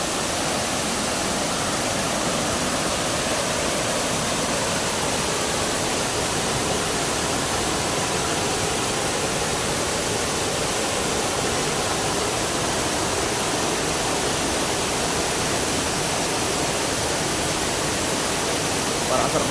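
Bantakay Falls pours in a constant dense roar of falling water, loud and close, unbroken from start to finish with no other sounds standing out.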